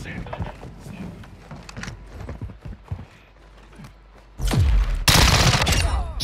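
Video game gunfire erupts after a stretch of quieter movement and radio chatter: a loud, sustained burst of rapid shots near the end, preceded by scattered clicks and mechanical clatter.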